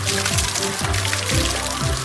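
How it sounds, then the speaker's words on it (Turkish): A cartoon fire truck's steady, loud rush of spraying water hisses over cheerful background music, continuous throughout. "kadar güçlü su püskürtebildiğine baksanıza."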